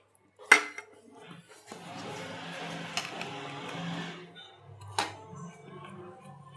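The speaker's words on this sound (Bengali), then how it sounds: "ধোকাটা হয়ে গেছে, এবার আমি থালায় ঢেলে দেবো।" Cooked dhoka mixture for a vegetarian dhokar dalna is poured onto a metal plate and pressed down, giving a few sharp clinks of a utensil against the plate with soft scraping and shuffling in between, fairly quiet overall.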